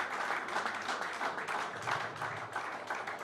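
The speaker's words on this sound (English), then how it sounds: "I think it deserves a bigger round of applause." A crowd at a golf championship prize ceremony gives sustained applause for the tournament winner, a dense, even wash of many hands clapping at moderate loudness that carries on throughout.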